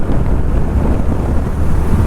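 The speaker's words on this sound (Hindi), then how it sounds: "हवा काफ़ी तेज़ है साहब, काफ़ी तेज़" Strong wind roars steadily against the helmet and microphone of a moving Yamaha FZ motorcycle, a loud, constant low rumble filling the whole clip with no break.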